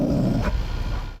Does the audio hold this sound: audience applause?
no